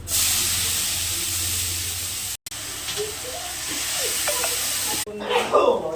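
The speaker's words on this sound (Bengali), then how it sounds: "ভাজা হয়ে গেছে, কালো জিরে একটা শুকনো লঙ্কা দিলাম," Black cumin and a dried red chilli hit hot oil in a pan, setting off a loud, dense sizzle that cuts out briefly, then resumes and ends with clattering stirring.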